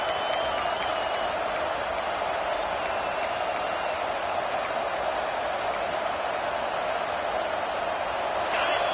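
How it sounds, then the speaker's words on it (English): A steady, dense roar of a large college football stadium crowd, loud and constant throughout, with scattered sharp ticks and whistles poking through the din. "And here comes the noise. This crowd is trying to inspire this defense to make a big red zone stop."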